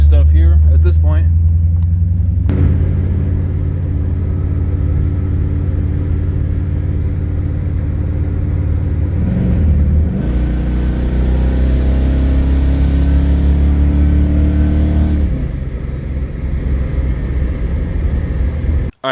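An old-school small block Chevy V8 fitted with Edelbrock parts idles and runs with a deep, steady rumble, a few throttle changes along the way, loud and close, with a voice occasionally over it.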